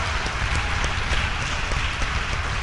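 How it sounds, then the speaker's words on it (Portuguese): Steady, dense applause from a church congregation during a worship service, filling the room evenly and continuously with no pauses and no voices rising above it. "Pode aplaudir isso aí, Marlene. Pode aplaudir mais forte."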